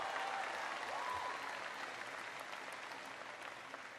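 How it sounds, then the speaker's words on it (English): Audience applause at a Barack Obama speech on college affordability in Buffalo, a sustained broad roar of many hands clapping that stays steady and loud across the whole stretch, slowly easing slightly toward the end. "Give mom and dad a big round of applause."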